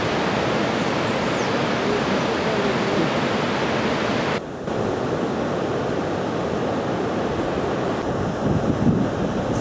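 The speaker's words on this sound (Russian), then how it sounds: "Это водопад Бассетти," The Bossetti falls at Iguazu, seen from the Brazilian side, roar in a dense, unbroken wash of rushing water, loud and close, with no one speaking.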